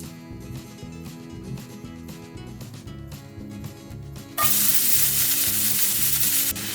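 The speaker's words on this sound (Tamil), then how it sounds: "இப்போ இந்த வெங்காயத்தை முழுமையாக வதக்கிக்கோங்க." Finely chopped onion hitting hot oil for Tamil-style macaroni pasta sets off a sudden loud, continuous sizzle close up, cutting in after a stretch of background music.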